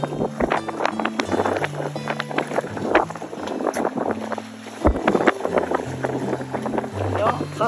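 A boat's engine runs at sea during a rescue in which one vessel is roped to another. The motor churns unevenly under strong wind buffeting the microphone, and voices talk over it.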